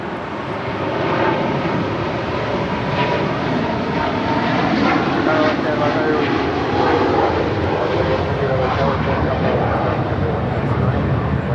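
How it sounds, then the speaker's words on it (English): A China Eastern Airlines Boeing 777-300ER departs Los Angeles for Shanghai, producing a loud, sustained, full-bodied jet roar that holds steady throughout at close range. "This is China Eastern Airlines 586 taking off to Shanghai on a 777-300ER."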